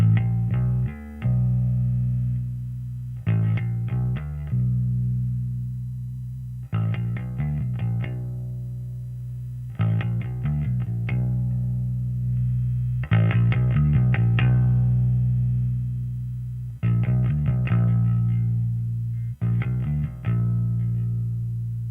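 A Jazz Bass fitted with ObsidianWire pickups plays with its volume rolled off, giving a series of deep, close note phrases in evenly spaced bursts separated by brief pauses, with no voices.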